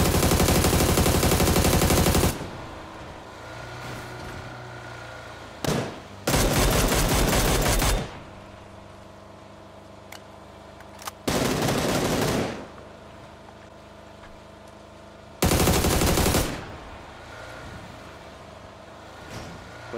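Gunfire in the PUBG battle game during a chase: four loud bursts of rapid automatic fire, each lasting one to two seconds, separated by quieter stretches of vehicle engine rumble.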